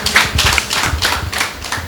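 An audience applauds at a televised talk event, a short burst of dense, close clapping that holds steady without voices.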